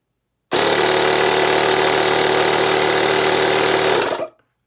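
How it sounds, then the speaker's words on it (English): A Lokithor JA301 jump starter's built-in air pump runs with no hose load, a loud, steady mechanical buzz that starts abruptly, holds constant for about three and a half seconds, then winds down and stops. "So that was a pump."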